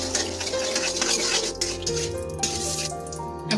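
A spoon scrapes and clinks against a kadai as salt and turmeric are stirred into hot oil for a rui fish head and cabbage dish, in short, irregular strokes under background music.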